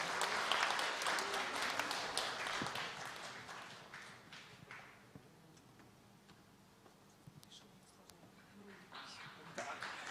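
An audience at a regional music festival in Yaroslavl, Russia, claps, with louder scattered applause at first that thins to sparse, fading claps, then picks up slightly again, with faint voices in the room.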